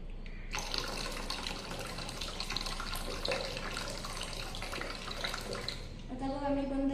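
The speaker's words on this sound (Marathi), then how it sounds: "हवेच्या दाबाने पाणी बाहेर पडले" Water pushed out of a bottle by air pressure streams through a tap in a steady splashing gush for several seconds, then cuts off, leaving a brief ringing tone.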